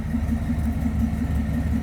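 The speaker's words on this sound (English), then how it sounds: "Just a nice sounding V8 underneath the hood of this one." A 1967 Pontiac Firebird convertible's 326 V8 with stock exhaust idles close up, a loud, steady low rumble with an even pulsing beat throughout.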